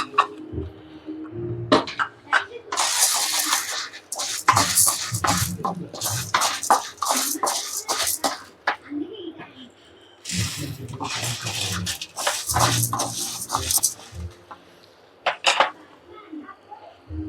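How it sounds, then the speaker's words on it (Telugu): Urad dal, chana dal, coriander seeds and cumin fry in hot oil in a pan, giving crackling, sputtering bursts with scraping and stirring clatter, rising and falling in waves with short pauses. "ఆయిల్ హీట్ ఎక్కగానే మినప్పప్పు, శనగపప్పు, అలానే ధనియాలు, జీలకర్ర ఒకదాంతో వేయించుకుందాం."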